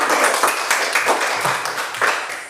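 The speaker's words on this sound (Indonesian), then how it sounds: "kita tepuk tangan karena semua" A classroom of students claps hands together in a dense, busy burst of clapping lasting a few seconds, fairly loud and close, with no talking over it.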